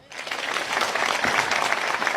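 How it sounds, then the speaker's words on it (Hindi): An audience at a political speech breaks into applause, the clapping rising quickly and continuing as a dense, even crowd of hands until the end. "उनके लिए तालियां बजाया।"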